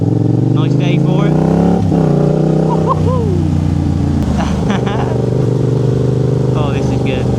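A motorbike engine idles loudly and steadily up close, with a couple of throttle blips in the middle, while people talk over it now and then.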